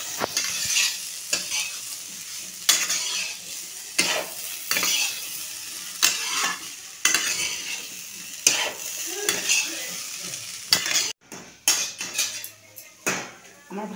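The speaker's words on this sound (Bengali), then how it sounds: "নেড়ে চেড়ে খুব ভালো করে লাল করে ভেজে নেবে" Beans, potato and cauliflower are stir-fried in a pan, producing a continuous close sizzle broken by repeated rhythmic scrapes and clatters of a spatula against the metal.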